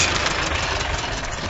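A tractor engine running in a field during seeding gives a loud, steady, close engine drone with a rough, knocking low rumble throughout.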